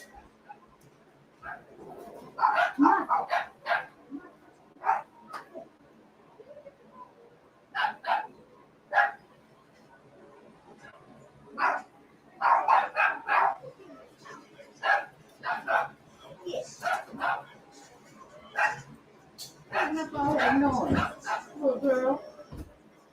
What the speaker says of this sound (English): Muffin and the neighbor's dog